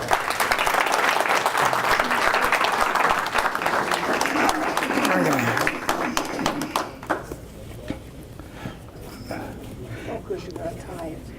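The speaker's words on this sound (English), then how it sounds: "you heard the applause" An audience applauds loudly for several seconds after a talk at a World War II roundtable, then the clapping thins out and fades to scattered sounds.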